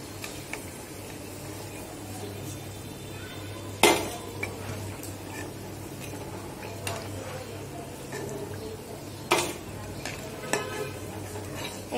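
Pakoras and flattened potato chops lifted one by one from hot frying oil, a low continuous sizzle under several sharp metallic clinks and scrapes of a utensil against the pan.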